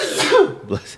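One close, abrupt sneeze bursts out loudly, followed by a short breathy catch, in a quiet room during a podcast conversation.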